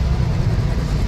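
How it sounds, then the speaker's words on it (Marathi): Dense road traffic in Dadar, Mumbai: a steady low rumble of engines and tyres, loud and continuous with no distinct horn or voice standing out. "फुल ट्रॅफिक लागलेली आहे"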